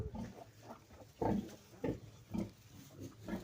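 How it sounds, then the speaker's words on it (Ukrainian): A sow nursing piglets grunts softly in a steady rhythm, low repeated snorts close by with quieter piglet sounds underneath. "Це свиноматки кормлять, пускають молоко дітям."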